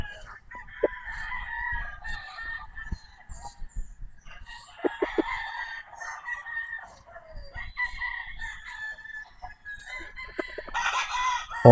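A Maclean hatch gamefowl rooster crows in long, loud, close calls, broken by clucks and bursts of cackling, with brief faint talk at moments.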